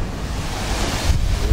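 Rough sea with waves and wind aboard a ferry bound for Enggano Island, Indonesia: a steady broadband wash of surf and wind buffeting the microphone, with a heavier surge of water near the end and no voices.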